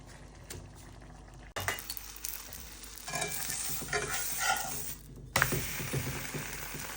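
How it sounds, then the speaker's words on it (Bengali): A paratha frying in a pan, a low sizzle that jumps louder after a sharp contact sound, then crackles and bubbles steadily, with scraping and a second brief clatter near the end, close and without talk. "এই যে এখন পরোটা ভেজে নিতেছি"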